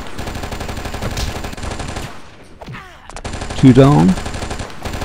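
Enemies fire rapid automatic bursts in the video game Oni during an airport assault, loud and continuous with a sharp louder burst near the end, while players talk over the gunfire.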